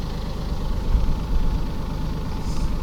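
A steady low engine rumble from the Weedinator machine idling at low revs, close and continuous with no voices.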